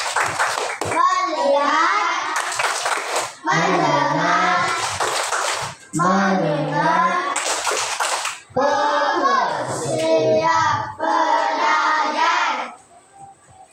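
Children in a Muslim religious-education classroom do a rhythmic counting-clap routine, with sharp bursts of group hand claps between loud chanted voices, several rounds in steady sequence.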